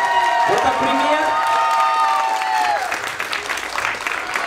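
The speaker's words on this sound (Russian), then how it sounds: "Давайте мы им еще как следует похлопаем." A crowd at a children's breakdance battle for ages 7 to 10 applauds and cheers loudly and steadily, with scattered whoops and shouts under the clapping.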